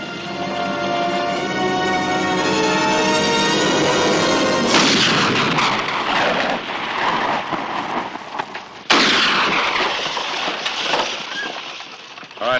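Gunfire and dynamite blasts in a western shootout, loud booming explosions and sharp shots with a sudden crack near the end, set against rumbling debris, and no voices.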